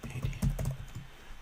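A computer keyboard typing a username into a login field: a quick, close run of keystrokes with uneven rhythm, heard alone for about a second and a half.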